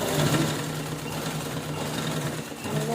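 A sewing machine runs steadily, stitching lace onto a saree cover made from leftover blouse pieces, a continuous close mechanical hum and rapid needle chatter with a brief dip near the end.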